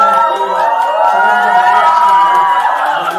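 A book-talk concert audience cheers and whoops loudly and continuously, a dense crowd roar with shouting voices close and sustained throughout.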